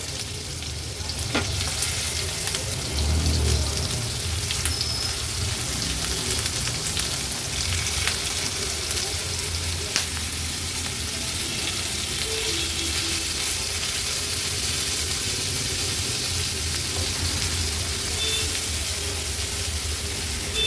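Pieces of surmai or similar fish fry in hot spiced oil for an Agri-Koli style thali, giving a loud, unbroken close-up sizzle with scattered crackles and a few louder bursts throughout, no voices.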